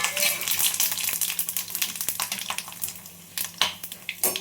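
Spice masala hits hot oil for a chhole paneer gravy, giving a continuous close sizzle and frying crackle with irregular stirring scrapes and a brief louder burst near the end.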